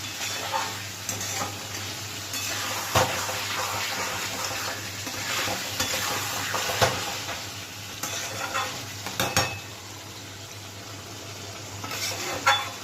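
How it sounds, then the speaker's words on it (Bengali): Pangas fish sautéing in a pan with steady sizzling and frying, plus repeated scraping and stirring of a spatula against the pan, close and continuous for about thirteen seconds with occasional sharper clatters. "দেখুন বন্ধুরা মাছটাকে আমি এইভাবে কষিয়ে নিচ্ছি।"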